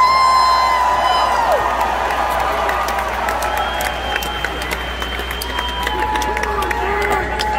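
A Detroit concert crowd cheers, whoops and applauds for a guitarist taking the stage, a loud continuous roar of many voices with scattered high whistles and shouts.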